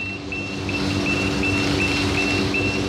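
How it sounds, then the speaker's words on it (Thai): A PE insulation-fitting machine sounds its heater warning, a high, evenly spaced beep repeating about every third of a second over a loud, constant machine hum. "จะมีเสียงสัญญาณเตือน ในเมื่อฮีเตอร์ทำงาน"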